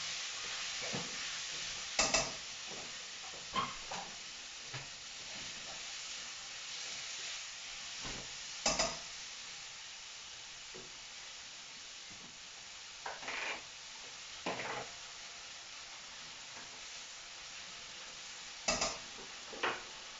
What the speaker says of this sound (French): je vais remuer là-bas pour pas que ça crame